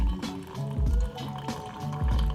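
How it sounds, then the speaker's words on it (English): Spring water pours over loose tea leaves into a brewing vessel, a steady liquid fill with gurgling, rising bubbly tones and splashes, close and alone. "what we're going to do is add in, as I said, spring water, making sure we have enough spring water"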